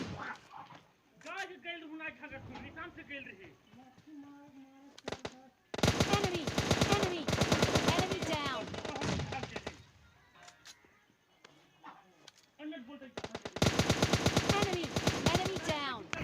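Bursts of rapid automatic gunfire spray from the PUBG Mobile Lite video game come in two long loud volleys separated by quieter stretches, with a voice talking in the gaps.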